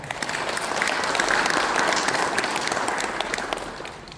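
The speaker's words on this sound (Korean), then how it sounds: "모두 또 새롭게 또 도를 위해서 헌신하실 남가은 의장님께 큰 박수 부탁드리겠습니다" A room of council members applauds a newly honoured chair at a regional advisory council meeting, with dense, even clapping that swells and then tapers off over four seconds.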